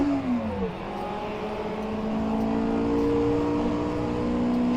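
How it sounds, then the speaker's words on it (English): A Mark I Lotus Cortina, the 140 horsepower version, racing on the Isle of Man course in rFactor2. The engine drones steadily and close, its pitch dipping and then holding as it runs under load, with no voices. "today we're racing in the Mark I Lotus Cortina, and this is the 140 horsepower variant"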